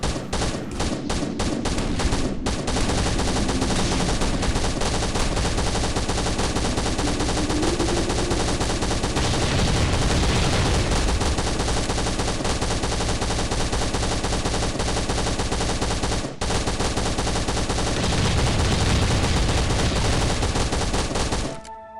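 Rapid bursts of automatic gunfire rattle almost nonstop, loud and dense, with explosive booms layered in, in a firefight in the video game Last Island of Survival.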